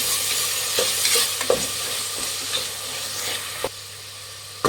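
Washed onions stir-frying for vegetable biryani, a continuous bright sizzle with a low hum beneath and periodic clanks of a spoon against the pot.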